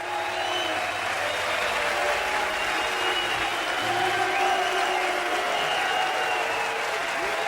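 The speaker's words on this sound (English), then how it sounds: "It's like the crowd, there's some cheers, there's some boos." Concert audience at Montreux after a set, a sustained wash of clapping and crowd noise with scattered shouts and voices mixed in, steady and fairly distant throughout.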